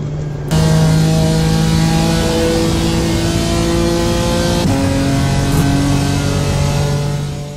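A BMW M4 GT4 race car engine in a sim racing game revs loudly and steadily, with a single gear shift midway as the tone drops and climbs again, alone without talk.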